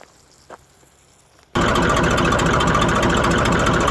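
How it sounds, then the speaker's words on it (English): A farm tractor on a dragon fruit farm, used for hauling compost, starts abruptly after a quiet moment and runs loudly and steadily close by with a dense, rattling engine drone. "so I'll just use the tractor for a minute"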